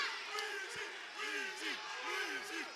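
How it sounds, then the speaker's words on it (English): Crowd at a fight night yelling and chanting in the last round, a steady roar of many voices with rising whoops. "You hear the crowd yelling, "Wheezy.""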